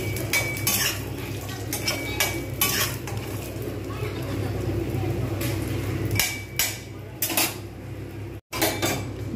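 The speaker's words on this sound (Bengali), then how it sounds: "আমি ফ্রাইং প্যানে কিছু পরিমাণ বড়ি দিয়ে দিলাম। বড়িগুলো ভালোভাবে ভেজে নেবো" Bori lentil dumplings fry in white oil in a frying pan, a steady close hiss under frequent metallic clatters and scrapes of a utensil stirring against the pan.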